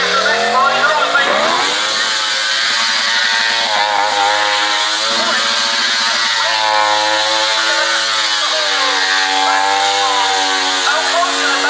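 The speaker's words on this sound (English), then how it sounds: "Straight into a burnout as well." Motorbike burnout at an outdoor stunt show: a loud, sustained engine roar held at high revs with wavering pitch, mixed with screeching tyre noise and an announcer talking over it.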